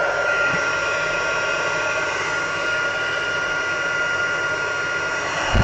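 A heat tool warms a Stampin' Up snowflake paper card, producing a loud, steady, close blowing whir that holds evenly and then cuts off right at the end.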